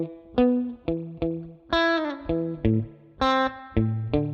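An electric guitar with effects, distortion and chorus plays the intro riff of a song: a sequence of about ten clearly separated picked notes and chords, each one ringing briefly, up close and with no voices over it.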